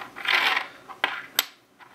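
A 1991 commemorative Soviet 1 ruble coin marking 850 years of Nizami Ganjavi is handled up close: a soft rustling scrape, then two sharp metallic clicks in quick succession, with no talking.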